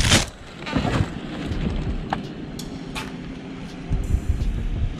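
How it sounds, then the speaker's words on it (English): Gusty wind rumbles and buffets outdoors, a steady low roar with a few brief knocks and rattles, no talking. "It's kind of windy out tonight."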